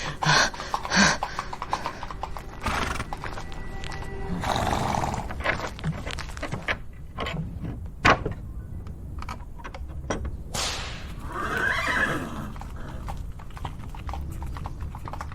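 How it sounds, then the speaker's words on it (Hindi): A horse-drawn tanga cart approaches with rhythmic clip-clopping hooves, along with an occasional snort or whinny and some rumbling and thuds in a dramatised scene, moderately loud throughout with no speech over it. "हाँ, एक तांगा आता दिखाई दे रहा है।"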